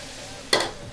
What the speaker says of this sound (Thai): ผัดเนื้อกันนะคะ